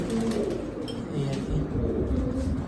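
Several pigeons coo nearby in a loft in low, throaty, overlapping calls, steady and close throughout the short stretch.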